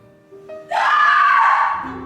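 A woman's sharp, sustained scream rises suddenly and holds loud for over a second before trailing off, heard alone in an indoor drawing-room scene at an estate dinner.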